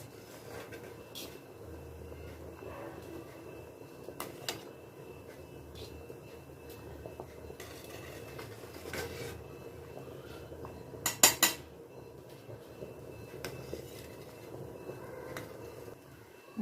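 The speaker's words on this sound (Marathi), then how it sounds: "मी त्याला एक व्यवस्थित झारा घेतला हातामध्ये आणि त्याच्याने फिरवून घ्यायला लागले" A slotted ladle stirring rice as it cooks in a pot, producing soft scraping with scattered metallic clinks and a short cluster of louder taps, fairly faint against a low background hum.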